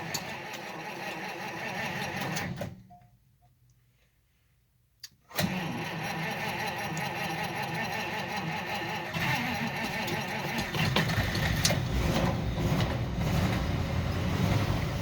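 A carbureted engine in a vehicle left unstarted for months cranks rhythmically, stalls into a brief near-silence, then catches with a sudden roar and settles into a steady, loud idle that rises slightly toward the end.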